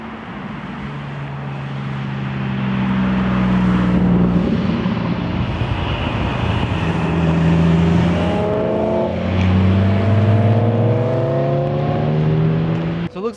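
Cars driving and revving on a road in the hills above Los Angeles, engines rising and falling loudly and steadily as vehicles accelerate and pass nearby, with no talk.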